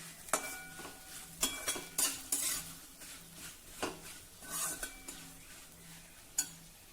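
A spice mixture with garam masala and amchur powder being stirred in a pan, a spoon scraping and clinking against the metal in irregular strokes over a faint sizzle, close by and with no talking.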